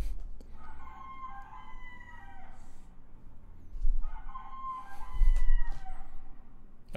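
A rooster crows twice in succession, each drawn-out call rising and falling clearly over quiet background noise, with a brief pause between them and no speech.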